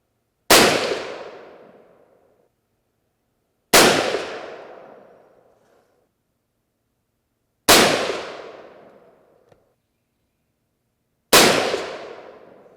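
Four loud, close rifle shots from a .32-40 Winchester falling block rifle, spaced about four seconds apart, each a sharp crack with a ringing decay that fades over roughly two seconds, with silence between them.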